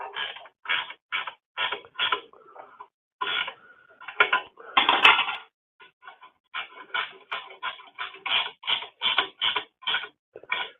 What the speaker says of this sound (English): These ratcheting frickin' box end wrenches